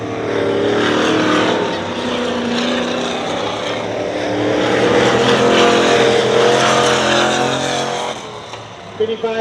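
Race trucks roar around a dirt track at Dirtona Raceway, engines droning loud and continuous, swelling as they pass and easing briefly near the end, with a commentator talking over them.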